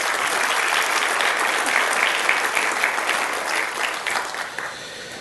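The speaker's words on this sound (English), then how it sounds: "can we please give Dr. Ricketts one more round of applause?" Conference audience gives a speaker a round of applause at a healthcare community event, loud and full clapping from a large crowd that holds steady then begins tapering off.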